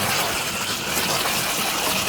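Cool tap water spraying steadily over mushrooms in a kitchen, a continuous close gushing wash with no breaks.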